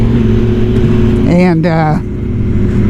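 A nearby rider's motorcycle revs hard on the road, a steady rumbling engine drone under wind noise that climbs in a sharp rising rev for about half a second, with a voice briefly heard.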